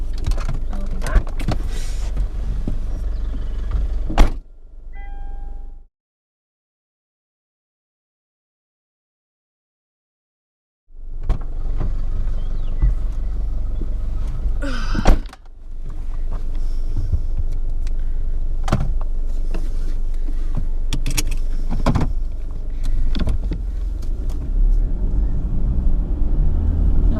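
A car driving along a rough forest dray track in Victoria, with steady engine rumble and bumps interrupted by a short stretch of near silence, then resuming with jolts over the road.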